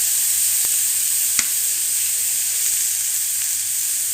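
Oil sizzles steadily in a hot pan during home cooking, a constant close hiss with a couple of faint clicks and no talk.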